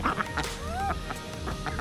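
Several short nasal quacks from ducks, repeated irregularly and fairly close, with a faint rising call mixed in over outdoor background noise.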